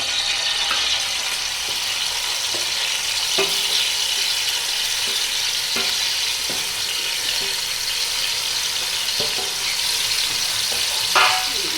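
Oil swirls and heats in a karahi, giving a continuous bright sizzle. Occasional sharp scraping clicks of the pan and utensil cut in at intervals; no talking.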